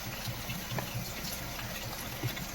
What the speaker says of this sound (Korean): 말통에 엔진 오일 부어 모을게요.